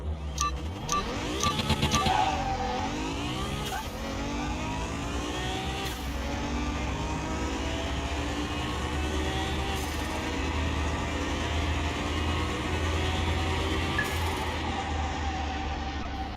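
A supercharged V8 in the Car Mechanic Simulator 21 game revs up sharply near the start, then settles into a steady, loud, sustained engine drone that runs without talk for the rest of the stretch.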